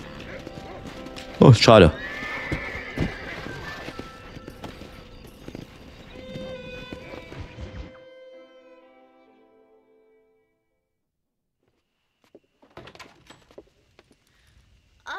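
Horse hooves clopping and a neigh from a horse in the Western open-world video game Red Dead Redemption, with a loud burst early on, game sounds fading to near silence, then faint scattered noises; someone speaks briefly.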